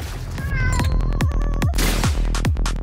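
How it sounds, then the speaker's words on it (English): Cat meow effects from the video game M.A.D. Cows, a short burst of several sharp meows in quick succession over game noise and repeated percussive hits, loud and close. "I don't like that cat meow sound."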